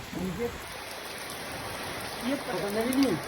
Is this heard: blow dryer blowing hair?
no